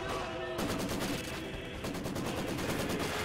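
A machine gun in Company of Heroes 2 fires in a steady, continuous stream of rapid shots, dense and sustained over a noisy battlefield.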